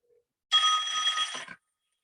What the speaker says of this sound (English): his phone is making this annoying noise